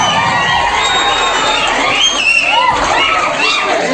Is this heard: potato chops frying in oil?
no